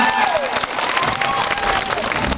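A concert audience claps and cheers in a dense, continuous wash of applause with a sustained tone ringing over it and a voice partly audible.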